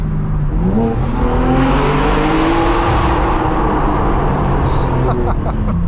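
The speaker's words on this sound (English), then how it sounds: "this car is so freaking loud" A loud, modified BMW M4 G82 engine roars and revs continuously, its pitch climbing and falling, close and dominant throughout with a broad rumbling drone.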